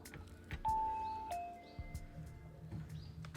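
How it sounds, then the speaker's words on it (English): A doorbell at the entrance of a house in a quiet residential neighborhood in Hashimoto, Wakayama, Japan, chimes as two descending tones, ding then dong, faint against outdoor ambience with passing traffic and clicks. "Doorbell does work."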